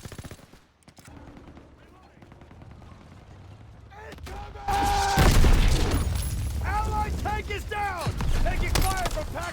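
Call of Duty WW2 battle with repeated rifle shots and bursts of machine-gun fire, sharp cracks growing denser and louder partway through, along with booms and a person talking over the gunfire.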